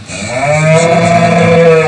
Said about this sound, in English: we're going to drive all of our cattle along a really quite risky drove road along the valley to this new pasture